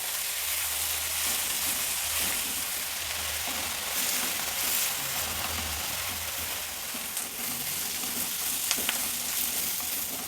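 Onion and dill leaves frying in a pan for a dill masala rice dish, a steady close sizzle with faint occasional stirring and no talk.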